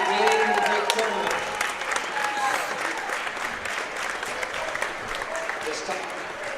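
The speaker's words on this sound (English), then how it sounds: "Let's give both teams another big round of applause for a great game and a great tournament." Crowd applause for both teams after a high school basketball championship between North Clay and Edwards County, a broad steady roar of clapping from the gym stands, with a public address voice and scattered crowd noise mixed in.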